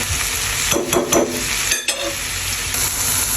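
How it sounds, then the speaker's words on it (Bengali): Vegetables for veggie egg chowmein cook in a pan with a soft continuous sizzle and a few stirring scrapes partway through, fairly quiet and with no talking. "সবজিগুলো একটু নরম হওয়ার পর্যন্ত আমি এগুলোকে কুক করব"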